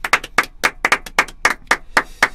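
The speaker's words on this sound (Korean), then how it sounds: "박수 한번 칠까요?" A few people on a Korean football talk show clap to celebrate Leeds United's promotion to the Premier League: a short burst of about a dozen sharp, close, slightly uneven hand claps.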